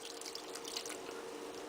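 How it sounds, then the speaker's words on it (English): Water pours in a steady, faint stream into a pot of cooking beans, with no voices. "I'll just add some more water"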